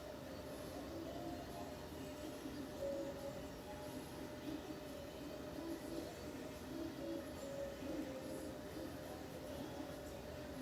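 A train rumbles steadily along with faint metallic squeals and clatter, distant and fairly quiet, with no talking.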